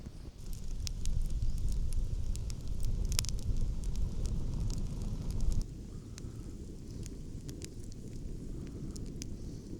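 A campfire burns at a state forest campsite with sparse, sharp crackles and pops over a steady low rushing of flame and breeze. The fire quiets a little partway through, and there is no talk.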